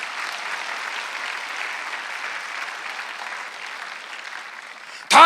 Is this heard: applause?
yes